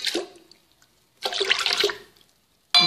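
Water pours into a bowl of brioche dough ingredients in two short splashing bursts separated by a pause. A third pour starts at the very end. The sound is close and clear, with no talk over it.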